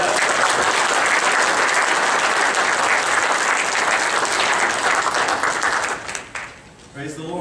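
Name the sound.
audience applause in church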